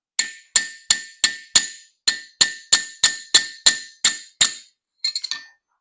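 Sharp metallic hammer blows drive a guard onto the ricasso of a Turkish twist fighting knife, about a dozen loud evenly spaced strikes followed by a quick burst of lighter taps.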